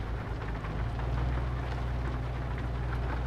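Rain and a thunderstorm in Euro Truck Simulator 2 make a steady, full wash of rainfall over a deep, continuous low rumble from the truck and thunder, loud and unbroken throughout.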